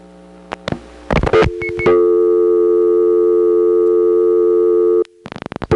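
Dialing 420 on a 1977 step-ESS telephone exchange brings clicks and switching bursts, then a loud steady tone held for several seconds before more clicks and a break, with no talking.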